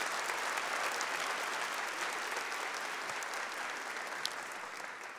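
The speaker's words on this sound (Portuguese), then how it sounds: "aplauda a palavra de Deus" A church congregation applauds during a sermon, a dense, steady wash of clapping hands that holds evenly for the whole stretch with no voices rising above it.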